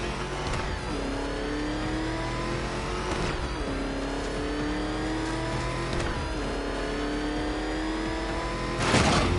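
The Batmobile in Batman Arkham Knight revs hard in repeated rising surges, engine pitch climbing then dropping back several times, loud and close, ending with a sharper burst of noise, no talking.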